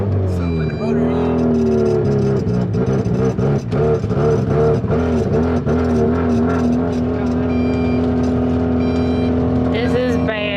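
A Mazda Miata engine with a buzzy, rotary-like note hums and revs steadily up close from inside the car while people talk over it.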